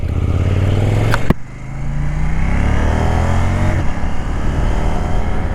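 A KTM Duke 790 motorcycle engine revving up loudly and close by, with rising harmonic tones as the revs climb, a brief sharp click partway through, then holding at a steady high drone.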